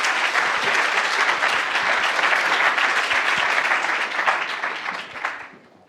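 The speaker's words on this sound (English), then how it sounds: "Again, big round of applause." An audience at a university cleantech pitch competition applauds a presenting team, thick sustained clapping from a large hall that thins out and fades over the last second.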